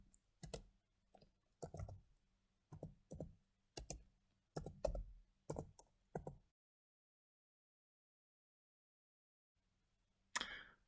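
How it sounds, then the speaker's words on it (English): Results are keyed into Microsoft Excel on a computer keyboard as a short run of quiet, separate clicks and taps in an uneven rhythm, then a long pause before one last tap. "Now your results will have to be typed one by one."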